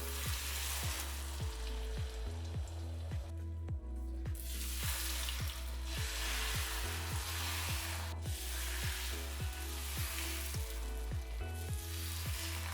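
Eggs sizzle and fry steadily in olive oil in a pan, with repeated stirring scrapes in a regular rhythm over the continuous hiss; close and fairly loud, with no talking.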